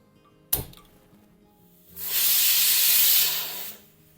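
A pressure cooker with cooked dal gives a sharp click, then a loud, sustained hiss of escaping steam lasting nearly two seconds before cutting off, close by.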